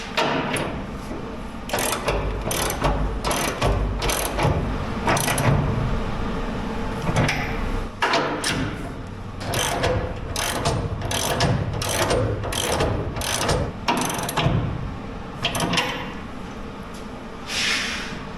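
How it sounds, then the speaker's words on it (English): A ratchet wrench clicks rapidly and steadily while tightening the upper shock bolts on a vehicle axle, loud and close, the bursts repeating in quick runs for many seconds over a constant background noise. "I'll go ahead and tighten those upper shocks up"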